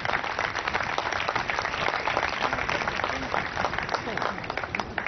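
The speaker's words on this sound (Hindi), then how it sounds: "सबसे पहले आपकी भरपूर तालियों में तशरीफ लाते हैं मिस्टर रहमतुल्ला चौधरी" Audience applause at an award presentation and training event in Karachi as a recipient comes up to receive an award, steady dense clapping filling the hall throughout, with murmured voices underneath.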